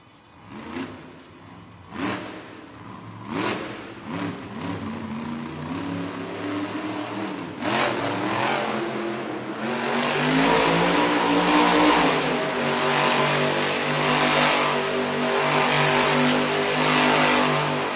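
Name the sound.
Megalodon monster truck engine revving in arena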